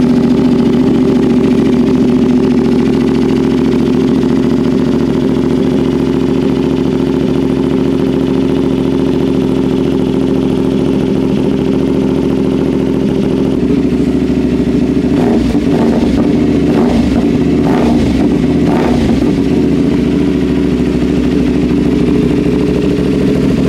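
A CFMOTO 450SR motorcycle, recently crashed in a race, idles with a steady low droning engine note close by, loud and continuous, with a few brief blips of throttle and mechanical rattle partway through.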